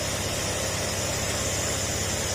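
A motorcycle engine with a two-way alarm fault runs at a steady, continuous idle, a close and even drone with no voices over it.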